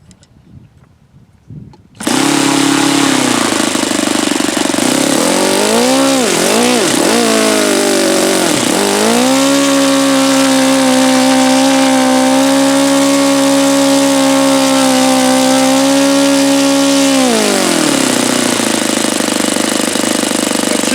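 A Saito FA-72a four-stroke model airplane engine starts after a brief quiet moment and runs loud and close, its buzzing note wavering up and down as the throttle changes, then holding steady before dipping near the end.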